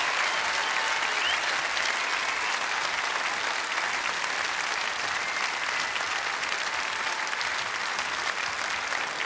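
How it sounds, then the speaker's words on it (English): Audience applause as contestants return to the stage at the 2008 Road to Tamworth country music awards night, a full, sustained roar of clapping filling the room evenly from start to finish. "Big round of applause for them."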